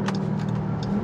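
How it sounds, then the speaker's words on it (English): Dodge Durango Hellcat supercharged engine held at half throttle, a steady loud close drone with a low rumble and whining overtones, sustained without any break. "Hellcats definitely have one of the best supercharger noises."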